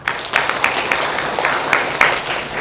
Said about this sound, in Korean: 그럼 다시 한번 박수 부탁드리겠습니다.